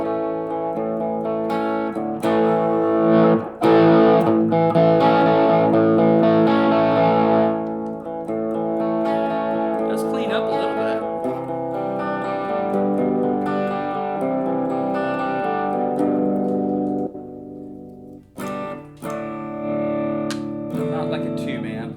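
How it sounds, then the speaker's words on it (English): Electric guitar with a dirty, distorted tone played through a Positive Grid Spark amp with the guitar volume rolled off, sustained chords ringing loud and close, alone without talk. "what happens if we have a dirty tone and we roll the volume off"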